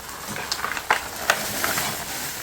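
Food frying in a pan during home cooking, a steady crackling sizzle with a few sharper pops and stirring scrapes, close and moderately loud, no talking.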